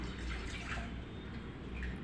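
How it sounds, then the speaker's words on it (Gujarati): Steady rushing of water being poured from a pan onto cooked rice, a continuous splashing flow that stays even throughout with no voices. "તપેલીમાં પાણી લઈ"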